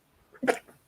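A single short, close sneeze bursts out abruptly and fades within a fraction of a second.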